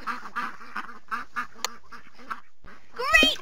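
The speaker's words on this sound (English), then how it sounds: "Those baby ducks are blocking the road." Cartoonish baby ducks from a Dora the Explorer video game give a quick run of about seven rhythmic quacks, a brief pause, then a louder, higher squawking quack at the end.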